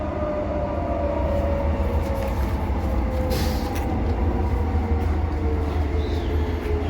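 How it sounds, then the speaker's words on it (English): A freight train with tanker cars rolls past near Thornlie Station on the Thornlie-Cockburn line, a loud steady rumble and rattle that lasts throughout, with no talking. "Here comes one freight train."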